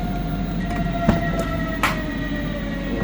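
Metro train at an airport underground station, heard up close: a steady rumbling rail drone with a few sharp clacks and squealing metallic tones layered on top, and no talking.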